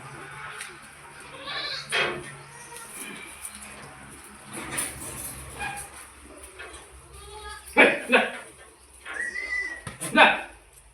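Goats bleat repeatedly at close range during natural deworming, several loud calls in bursts spread over the stretch, with people talking in between.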